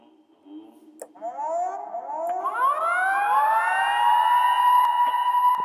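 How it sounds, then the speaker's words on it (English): A siren winds up with rising, overlapping wails that build and hold loudly, steadily growing more intense. "It wasn't like it was like a siren, like an alarm siren."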